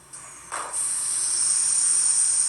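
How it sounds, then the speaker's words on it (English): A model train sound decoder plays a short hiss and soft thump as doors slide open, followed by a steady high-pitched electronic whine that continues to the end. "And we'll open the doors."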